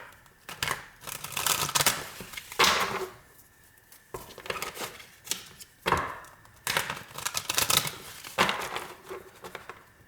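A tarot card deck is shuffled by hand at close range, crisp riffling and slapping of cards in several quick bursts separated by short pauses, with no talk.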